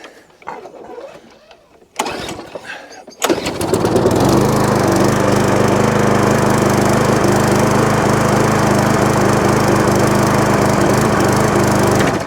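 An MTD lawn mower with a Tecumseh engine and a loose carburetor starts after a pull and then runs roughly with a hunting idle. It is loud and steady, close by, with no talk.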